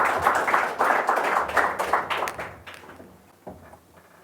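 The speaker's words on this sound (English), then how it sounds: "A big round of applause for our speaker tonight" Audience applause for a speaker at a Greek Community of Sydney talk, a room of hands clapping steadily for about two and a half seconds, then thinning to scattered claps and a last lone clap.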